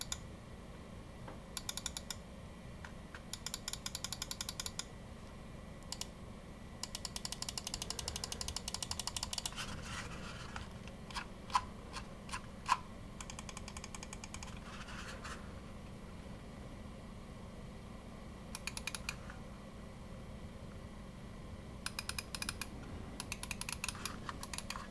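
Logitech G305 wireless gaming mouse buttons and scroll wheel, rapid bursts of crisp clicking and ratcheting wheel notches separated by quiet gaps, recorded close and faint.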